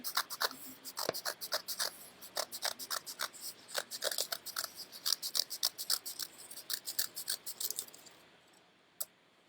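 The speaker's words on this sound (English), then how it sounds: "I'm going to cut out your circle" Scissors cutting a circle out of paper for a 3D sun craft, a close, quick run of crisp snipping cuts in steady rhythm that slows and ends with a single final snip; no talking.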